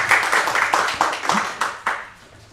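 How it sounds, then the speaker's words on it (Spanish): An audience at a Bible and Christian history quiz session claps steadily, giving about eight distinct, fairly loud hand claps at an even rhythm before stopping. "la idea es que aplaudan"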